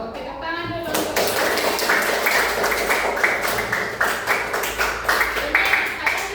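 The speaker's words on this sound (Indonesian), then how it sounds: "oke, tepuk tangan dulu" Classroom students clapping their hands together, a dense run of close, sharp claps in a fairly steady rhythm lasting several seconds, with a voice speaking briefly at the start.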